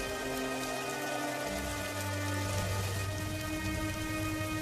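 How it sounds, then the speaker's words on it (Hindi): Heavy rain pours steadily and loudly on a surface, with a deep low rumble swelling midway that suggests distant thunder in a storm; no voices. "एक दिन अचानक आसमान में काले बादल छा जाते हैं और हवाओं के साथ जोर जोर से बिजली कड़कने लगती है और देखते ही देखते भयंकर बारिश शुरू हो जाती है।"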